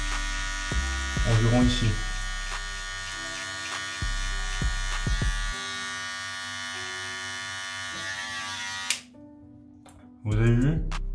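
An electric beard clipper with a closed guard and the blades set as close together as possible hums steadily while trimming a first line in a home beard trim. Someone speaks French in short bursts over the buzz, which stops near the end.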